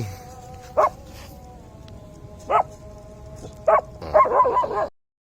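Dogs at home bark in three separate sharp single yips spaced a second or more apart, then a quick burst of overlapping yipping before silence. Close and loud over a quiet background.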